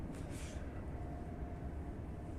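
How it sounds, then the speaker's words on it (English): Steady high-speed rumble and rattling of a Class 801 IET train in Train Simulator Classic, on a run between Weston-super-Mare and London Paddington, a continuous close, even drone with no breaks. "The rattling sound you can hear, that actually happens on a real IET at speed."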